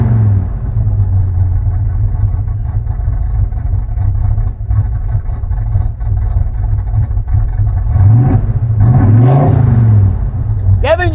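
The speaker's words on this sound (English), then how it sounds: "So this thing has a radical cam in it. It's called a thumper cam. Let's warm it up and we'll hear it." A 1965 Ford F-250 engine fitted with a radical thumper cam warms up, giving a loud, steady low rumble throughout. A few revs rise near the end.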